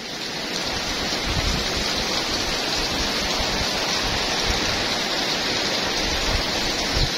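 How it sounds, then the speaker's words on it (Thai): Heavy rain pours down steadily during a sudden storm, a dense, loud, unbroken hiss that fills the whole stretch with no voices. "ฝนตกโอ้ย"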